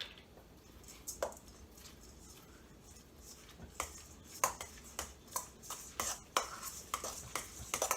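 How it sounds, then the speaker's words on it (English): A quick stir of breakfast ingredients in a bowl, with intermittent light clinks and scraping taps that come closer together toward the end, close and fairly quiet with no talking. "And then I'm gonna give that a quick stir."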